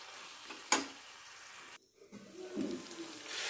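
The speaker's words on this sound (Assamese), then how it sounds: "এতিয়া আমি মাজে মাজে এনেকৈ লৰাই থাকিম।" Goose curry with potatoes stirred in a pan: a sharp clack of the spoon against the pan, a brief drop to silence, then faint sizzling and shuffling of the stirred meat, quiet and near.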